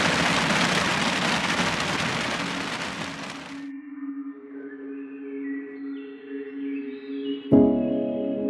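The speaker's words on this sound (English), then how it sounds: "live from a massive flipping rainstorm" Heavy rain from a massive rainstorm pours loud and dense on surfaces for about three and a half seconds, then cuts off, leaving faint tonal sounds and a sudden thud near the end.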